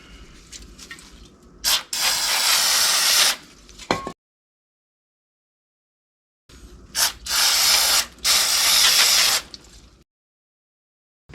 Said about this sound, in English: Also, I'm gonna spray some brake cleaner.